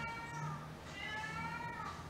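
A cat meows repeatedly at close range, a few drawn-out wavering cries in quick succession against a faint indoor background.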